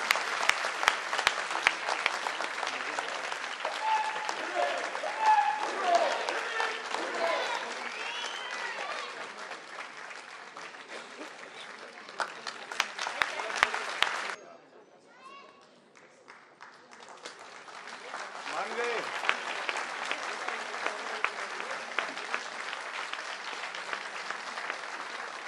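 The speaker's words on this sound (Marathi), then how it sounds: "टाळ्या थांबल्या नाही पाहिजे" An audience in Pune applauds at length for a singing performance of 51 Lavani Marathi songs, with sustained clapping that dips briefly in the middle and then swells again.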